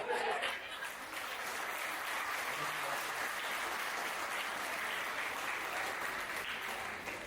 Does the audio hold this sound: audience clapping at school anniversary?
yes